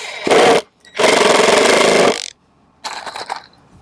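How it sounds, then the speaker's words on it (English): Close and loud, a power drill drives screws into raised garden bed wood in three whirring bursts: a short one, a longer sustained run, then a briefer final burst with rattling. "I'm going to start the screws with the wood flat because it just makes it easier to line it up"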